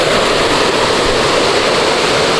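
Water churns loudly right beneath the decking of a large abandoned manor hotel, a dense, constant roaring rush that fills the whole moment with no voices.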